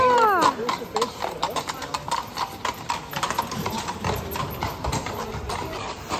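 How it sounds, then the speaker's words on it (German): Haflinger horses' hooves clip-clop on pavement through narrow old-town alleys in Salzburg, a steady run of close, sharp knocks with busy street ambience and voices mixed in. "wo zum Beispiel jetzt einfach Pferde durchkommen"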